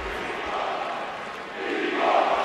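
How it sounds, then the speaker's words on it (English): Arena crowd in the NHL 22 video game at a Stanley Cup playoff game, Hurricanes home rink, a steady wash of roaring and cheering that swells louder toward the end. "This crowd is ready, as is their public address announcer"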